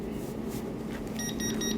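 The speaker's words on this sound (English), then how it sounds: "When the time is over, you can hear the beep that the sublimation is ready now." VAP02 mini vacuum heat press sublimation machine signalling it has finished, a few short electronic beeps in quick succession over a steady low machine hum, no voices.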